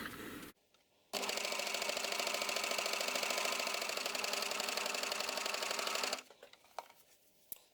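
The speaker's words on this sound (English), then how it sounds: "I'm going to continue stitching a little bit, just to make sure, and holding my strip here in front of the machine" A coverstitch machine sews a belt loop strip made with a bias tape maker, one steady, loud, close run of rapid stitching lasting about five seconds, then stopping, with faint handling noises before and after.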